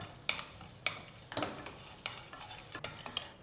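Whole spices (bay leaf, cloves, cardamom and cinnamon) sizzling in hot oil for a coriander pulao, with a steady fry hiss broken by several sharp scraping stirs of a spoon against the pan, close and moderately loud, no talking.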